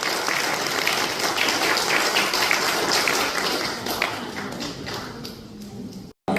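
Wedding guests give sustained, dense applause in an indoor hall, loud and continuous for several seconds before it fades and cuts off.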